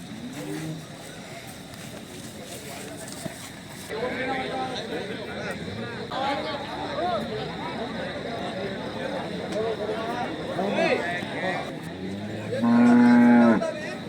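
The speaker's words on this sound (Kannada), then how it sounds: "ಇದೊಂದು HF ಹಸು ಐತೆ. HF cross" Holstein Friesian cross cows at a cattle market in India low and moo repeatedly, several calls spread through the clip with a loud close one near the end, amid crowd chatter and background noise.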